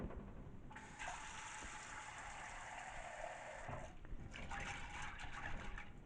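Rinse water pours out of a pot of soaked dried beans, a steady gushing splash for about three seconds, then a shorter second pour, close and fairly quiet.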